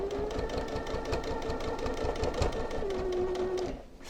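A sewing machine stitching quilt binding onto a minky backing runs in a fast, even needle chatter with a faint motor whine, then stops just before the end.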